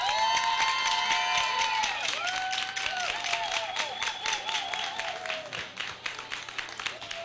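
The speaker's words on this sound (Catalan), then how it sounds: "Un aplaudiment, sisplau" Crowd at the Patum festival applauding and cheering, with clapping and whoops under sustained whistling or wind-instrument tones, loud at first and then thinning into scattered claps.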